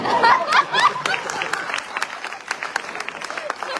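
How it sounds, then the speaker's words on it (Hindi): Audience clapping at a Hindi kavi sammelan held for a Teacher's Day celebration, a dense patter of hands with a speaking voice over it early on, then the applause continuing steadily, moderately loud, through the rest of the moment. "लाल साहब ने ताली मिला दी है"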